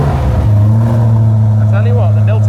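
A Corvette with a Milltek exhaust rumbles loudly up close, its low engine note rising and holding steady as people talk over it.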